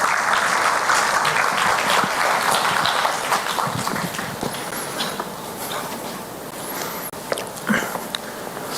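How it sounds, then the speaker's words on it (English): A conference audience applauds as a speaker comes on stage, a loud, dense burst of clapping that fades gradually toward the end, with a few sharper claps and stray noises breaking through. "Can we have a huge round of applause?"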